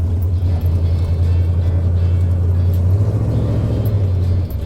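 Chevrolet square body truck churning through mud, its engine a loud steady low rumble that holds evenly at close range, with no talking.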